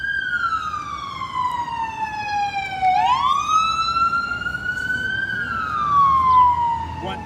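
An emergency vehicle siren in Irving, Texas, wails loudly nearby, its pitch sweeping slowly down and up in long cycles over a faint background rumble.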